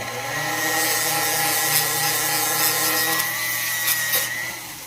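Worn 120 grit sandpaper rubs continuously over a surface, a loud close rasping scrub with a humming tonal layer beneath and a few brighter strokes, no one talking.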